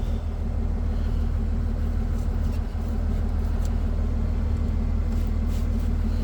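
A 1968 International 1200 pickup engine, abandoned and parked for over fifteen years, cranks over with a steady, loud low rumble that holds evenly throughout without catching.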